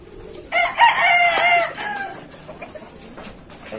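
Roosters crow loudly and nearby in one long call, then keep up softer clucking and scattered fowl noises outdoors, with no talk.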